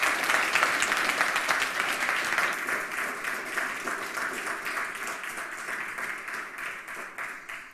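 An audience at the 27c3 Chaos Communication Congress welcomes a speaker with strong, steady clapping that gradually tapers off over several seconds.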